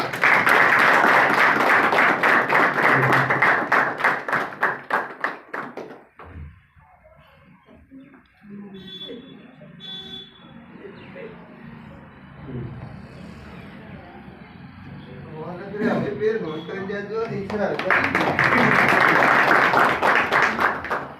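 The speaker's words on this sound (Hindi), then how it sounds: "तालियां चालू रखो सब" Audience at an RCM business meeting clapping in sustained bursts at the start and again near the end, with a quieter stretch of murmuring and shuffling between; clapping is loud and dense, crowd noise underneath.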